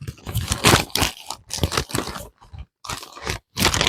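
Soft plastic packaging of a 4K Blu-ray release torn open and crinkled up close, with loud bursts of crunching and rustling separated by short pauses.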